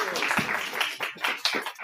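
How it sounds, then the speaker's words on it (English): Audience at a judicial candidate forum in Harrisburg gives a round of applause, dense close clapping that swells and dips in waves over a couple of seconds with no talk. "let's give them a round of applause."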